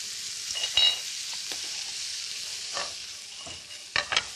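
Squid with pepper stir-fries over high heat in a steady close sizzle, broken by a few spatula scrapes and clacks against the pan, with no talk.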